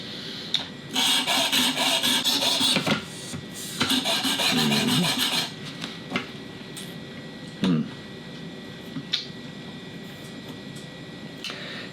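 A knife blade, a Glock knife, is drawn across Work Sharp Precision Adjust Elite sharpening stones in repeated gritty rasping strokes, loud bursts at first, then lighter scrapes and occasional clicks, close up with no talking.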